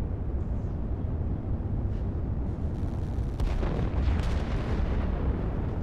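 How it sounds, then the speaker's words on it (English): Rocket launches in the Line War strategy video game, heard as a steady, dense rumbling roar with several overlapping blasts, loud and continuous throughout. "there's just three rockets being launched here"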